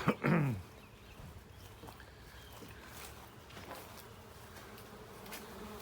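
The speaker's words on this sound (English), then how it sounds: "here's where the bees are going in" Bees buzzing around a colony entrance in a house wall, a faint, thin drone of insect wings just beyond arm's length, with a short louder burst at the start and a few soft bumps and knocks around it.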